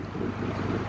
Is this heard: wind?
yes